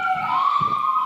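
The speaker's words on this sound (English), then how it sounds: "We're going to wait for the sirens to go by here." Sirens from emergency vehicles leaving a nearby fire station in Philadelphia, a steady wailing tone held loud and close throughout with no talk over it.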